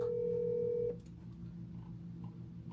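A single electronic telephone tone sounds steadily for about a second during a cold call, then cuts off to a low background hum.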